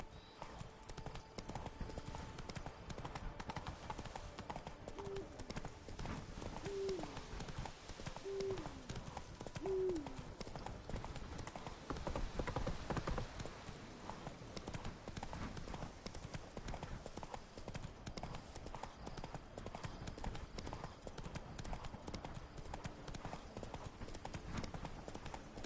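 Steady clip-clop of a horse's hooves in a video game ride, a continuous rhythmic trot under a busy game soundscape with occasional short tonal calls, moderately loud throughout.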